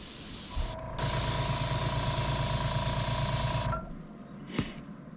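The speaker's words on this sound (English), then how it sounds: "And the airbrush is just a Pache VL. There we go. Throw some primer down." Badger Patriot-style airbrush laying primer onto miniatures gives a close, steady hiss for about three seconds, preceded and followed by short puffs of air, with no talking.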